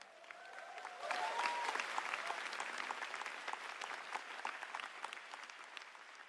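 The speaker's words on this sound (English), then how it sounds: "Everybody give a round of applause to my mom and dad." A large crowd at a GTC Taipei keynote breaks into sustained applause, rising sharply after a brief lead-in and holding as a dense, bright clapping texture with a few whoops, fairly distant and moderately quiet.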